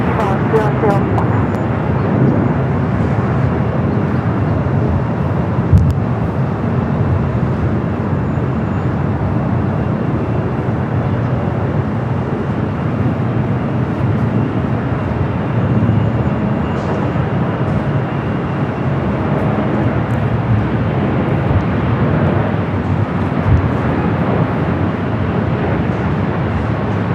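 Jet aircraft roar steadily at Los Angeles LAX airport, a broad continuous rumble heard from a distance. Radio talk between the tower and pilots runs over it throughout.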